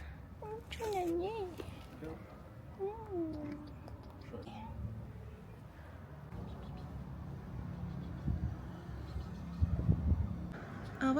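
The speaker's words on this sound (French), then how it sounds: "Au revoir petit chat." Cat meowing at a visit to a ribat in Tunisia, giving a few clear rising meows early on, then quieter as street noise and people talking in French take over.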